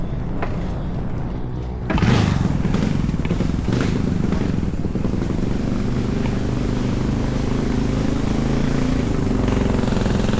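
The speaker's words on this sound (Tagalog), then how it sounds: "Buti na lang, ano yung motor ni Tatay Sid? 175" A 175 motorcycle engine runs steadily outdoors in a flooded area, a continuous rumbling idle that rises after a couple of seconds and holds loud throughout, with no talk over it.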